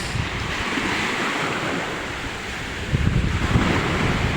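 Strong ocean waves surge in a constant, heavy wash mixed with wind buffeting the microphone, loud and close, swelling slightly toward the end with no voices.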